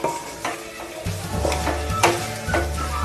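Masala sizzles steadily in a hot pan for mutton kulambu, with repeated scraping stirs at a slow, even rhythm, close and fairly loud with no talking.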